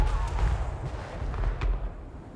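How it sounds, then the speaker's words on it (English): Skaven warp lightning cannons fire in the Total War: Warhammer 3 strategy game, producing a few deep booming blasts over a rumbling battlefield bed, loud and close with no clear talk. "Let's see these warp lightning cannons in action."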